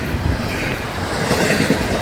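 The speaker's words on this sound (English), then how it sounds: "Look at how long this train is." A long FECR freight train rolls past at night, a steady loud rumble of railcars and wheels with faint clickety-clack and no pauses.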